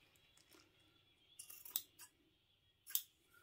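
Scissors trim the edge of fabric around a zip on a sewn shoe bag, with a few quiet snips. Two sharper cuts stand out near the middle and the end, close by with no talk.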